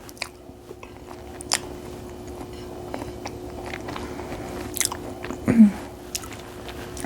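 Someone bites into and chews a slice of coconut cake with buttercream icing, producing soft, close, intermittent chewing and squishing sounds with a louder bite near the end.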